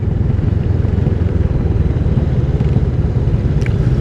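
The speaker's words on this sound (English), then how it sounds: "I've obviously got the noise of the engine, I've got the noise of 7 million engines around me" A steady, loud motorcycle engine drones without a break, close by, with road rumble and no voices.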